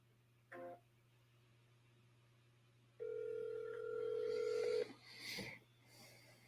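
A telephone call is placed: a short tone, then a steady ringback tone lasting a couple of seconds, followed by a brief click and faint line noise over a low background hum.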